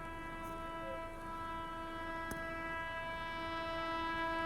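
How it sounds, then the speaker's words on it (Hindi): Brahmaputra Mail train approaching, a sustained horn blast with stacked steady tones, moderately distant and faint, over a low rail rumble and a brief clank midway. "और बाकी देखिए एक और ट्रेन जो है वो आ रही है।"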